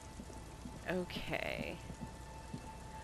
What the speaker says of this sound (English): It's getting late, and it's raining.